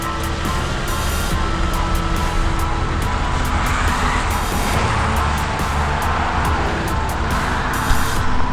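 A lowered PT Cruiser convertible driving along, with a continuous loud rumble of engine, road and wind noise that holds steady throughout, no talking.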